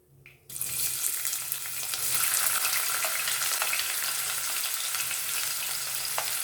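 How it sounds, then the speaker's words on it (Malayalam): Chopped onion, ginger and garlic sauté in a hot pan for a South Indian tomato rasam. A loud, steady sizzle starts abruptly after half a second and keeps going with scattered crackles, close and with no voices. "അതിനകത്തോട്ട് നമുക്ക് അരിഞ്ഞു വെച്ചിരിക്കുന്ന സവോളയും ഇഞ്ചിയും വെളുത്തുള്ളിയും ഇതിനകത്ത് ഇട്ടൊന്ന് വഴറ്റിയെടുക്കാം"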